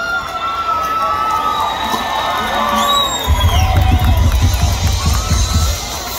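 A carnival concert crowd at Carnaval Mabó 2023 swells into loud cheering and applause partway through, dense and close over the music and voices.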